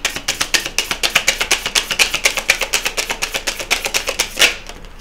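Tarot cards are shuffled in a rapid, steady riffle of about two dozen crisp, close card flicks over five seconds, ending in one louder snap, with no talking.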